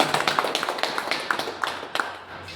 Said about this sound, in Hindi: हमारे प्रिय गुरुदेव रामू सर के लिए भी एक बार जोरदार तालियां